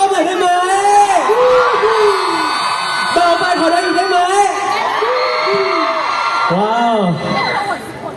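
A concert audience at a Mellow Pop thank-you party at The Street Ratchada in Bangkok cheers and screams loudly and steadily, with shrill whoops and yells rising and falling over a dense crowd roar.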